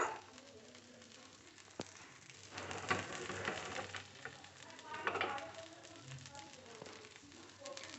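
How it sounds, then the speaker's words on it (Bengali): Batter fries in a pan with just a few drops of oil, giving a soft, faint crackle that rises and falls; a voice talks quietly underneath. "একদম আমি ড্রপই তেল দিচ্ছি, বেশি তেল একদম না। এবার এটা ফ্রাই হবে।"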